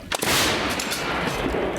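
A single heavy howitzer blast booms loudly, its deep roar rolling on and fading slowly afterward.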